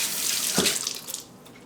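Water runs from a kitchen tap over a lemon being rinsed, a steady close hiss that swells briefly as the fruit passes under the stream, then thins out toward the end.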